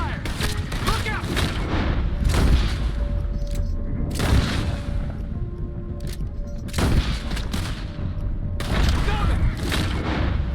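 Heavy gunfire rages through a battle in Red Dead Redemption 2 as soldiers clash with natives, loud volleys and booming blasts repeating across the clip with shouting voices mixed in.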